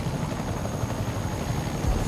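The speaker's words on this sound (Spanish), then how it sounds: "Helicóptero. Recibido, enviamos un pájaro." A helicopter in the Marvel's Spider-Man video game gives off a steady, loud rotor throb and engine roar that holds at close range without talk.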